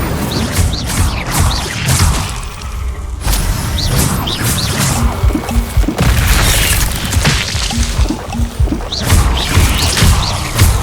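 The Incendio fire spell from Hogwarts Legacy, a wizarding action game, bursts out in repeated whooshing booms and crashes, loud and close, mixed with other spell impacts through an ongoing fight.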